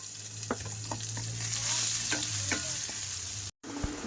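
Chopped onion sizzles steadily in hot oil that was seasoned with bay leaves and five-spice seeds, with a few stirring scrapes and a brief cut in sound near the end.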